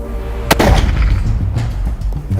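A single sharp blast from a high-powered rifle fired at a buffalo on an African hunt, one loud crack with a rolling echo that fades over a couple of seconds, nearby and outdoors.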